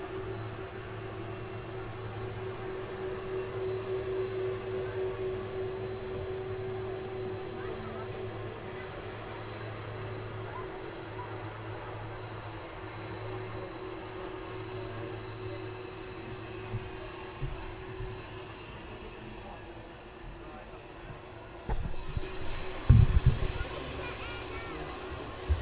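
A Boeing 747 airliner taxis at Manchester Airport before departure, a low steady engine hum and whine heard from a distance under intermittent talk, with a brief louder rumble near the end.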